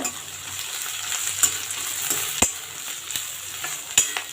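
Onions and green chillies sauté with torn curry leaves in hot oil for a cool summer kuzhambu, a soft steady sizzle broken by several sharp clicks of a spoon stirring against the pan.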